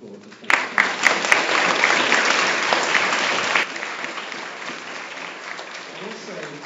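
Audience applause at a school presentation day breaks out suddenly with a few sharp claps, then holds as steady, dense clapping for about three seconds before thinning to scattered, quieter claps.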